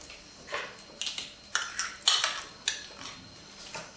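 A spoon stirs a daisy salad of canned peas, salt and mayonnaise in a bowl, making soft repeated clinks and scrapes in a steady rhythm, close and fairly quiet.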